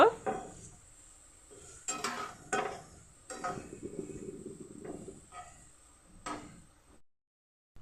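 Carrots and beans frying in a pan with salt and turmeric powder, heard as a spatula scraping and clattering in several bursts over a soft background sizzle, close by.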